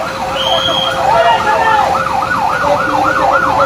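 A fire truck siren wails loudly and continuously in a steady rising and falling pattern as the second fire engine arrives at a fire in Cotabato City, with traffic noise underneath.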